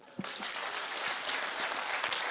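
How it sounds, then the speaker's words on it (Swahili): An audience at an official gathering for government administration officers in Kisumu County, Kenya, bursts into applause after a brief thump, a steady loud clapping that continues throughout without talk. "So mnipigia makofi"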